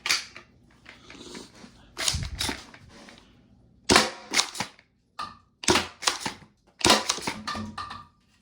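A Worker Seagull foam dart blaster with a short barrel and weak spring fires darts in a string of sharp close snaps, some single and some quick doubles, separated by brief quiet gaps.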